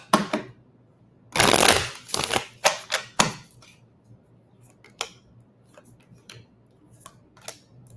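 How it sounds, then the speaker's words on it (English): Tarot cards shuffled by hand, a long riffling burst near the start followed by several shorter riffles and scattered light card taps, close and alone with no talking. "One more good shuffle."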